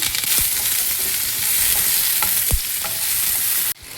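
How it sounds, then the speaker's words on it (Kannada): Onion, crushed garlic and curry leaves frying in a pan, a loud dense sizzle with a few spatula scrapes and taps, close up, cutting off abruptly near the end. "ಬೆಳ್ಳುಳ್ಳಿ ಜಜ್ಕೊಂಡಿದ್ದೀನಿ ಆ್ಯಂಡ್ ಕರಿಬೇವು ಇಷ್ಟನ್ನು ಹಾಕಿ ಫ್ರೈ ಮಾಡ್ತೀನಿ"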